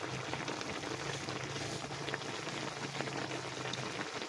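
Fish and vegetables boil in a pot, giving a steady, dense bubbling and hiss close by that continues evenly throughout with no voices.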